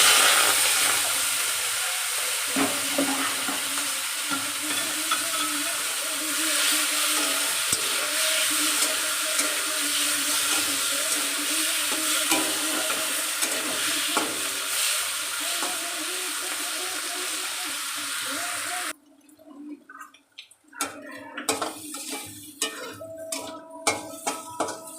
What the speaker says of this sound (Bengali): তেল গরম হয়ে গেছে, এবার এর মধ্যে চিংড়ি মাছগুলো দিয়ে দেব